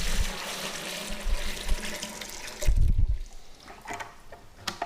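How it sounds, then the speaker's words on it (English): Sanitizer solution being poured back into a plastic home-brewing bucket during extract beer brewing, a steady close splashing of liquid with a heavier gush near the middle before it tapers off. "Pour the sanitizer back into the bucket."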